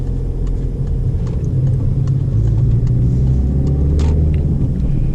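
A car drives through town in third gear at about 50 km/h near Laval, its engine rumbling low and steady from inside the cabin with a slight swell midway.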